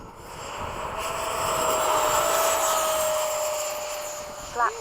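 F-5 jet engine throttling up for the takeoff roll, a steady loud turbine whine and roar that builds and holds, with a rising tonal whistle and a brief bump near the end.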